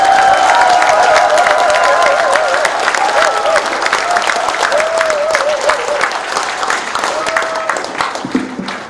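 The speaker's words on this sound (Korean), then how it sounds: "우레와 같은 박수로 환영해 주시기" Loud, sustained clapping from a crowd welcomes Jeong Dong-gyun, a Democratic Party candidate for Yangpyeong county head, at his campaign office opening, with a voice speaking over the steady applause throughout.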